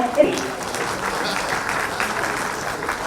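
Steady applause from an audience at an official ceremony in Jharkhand honouring those who fought for the state, held at a moderate level for the full stretch with a brief louder burst near the start.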